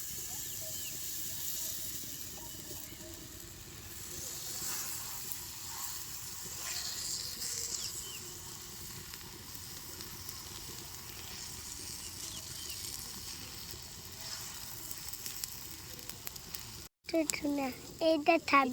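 Potato paratha batter sizzles in a little oil on a hot tawa, a steady soft hiss running throughout, fairly quiet and close, ending with a brief burst of scraping or clattering.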